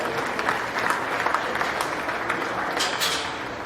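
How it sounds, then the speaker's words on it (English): Steady applause from a crowd at a county fair swine show, greeting a class of Chester White gilts; dense, even clapping fills the whole stretch at moderate loudness with no talk over it. "Give them a nice round of applause."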